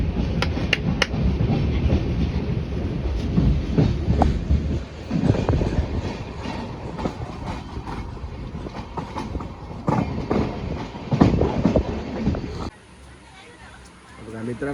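A moving train heard from inside a carriage, with a steady loud rumble and rhythmic clatter of the wheels and people talking over it, before the noise drops away near the end.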